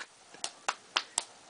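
A small child claps hands four times in a slow, uneven rhythm, each clap a sharp, close, moderately loud slap with quiet gaps between, during a playful body-parts game with a baby.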